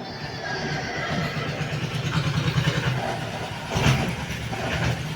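A horse neighs in a battle scene from the film Chhaava, its whinny mixed into a dense, rumbling soundtrack of action effects.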